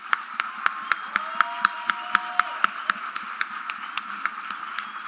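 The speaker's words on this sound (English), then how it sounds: "So please let's give them a round of applause." Regular sharp claps ring out through a hall as the crowd applauds the Baobab team at the Deep Learning Indaba closing ceremony, a steady, fairly close patter with a faint sustained tone underneath.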